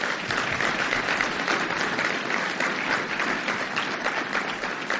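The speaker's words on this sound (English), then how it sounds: "Give her a round of applause." A crowd at a motivational business gathering bursts into steady, loud applause, a continuous roar of many clapping hands lasting the full few seconds with no talk over it.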